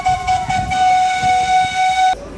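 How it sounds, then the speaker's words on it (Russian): A train in Tierra del Fuego rumbles close by with a steady sustained whistle tone over the rolling noise, cutting off abruptly near the end. "А вот и поезд едет."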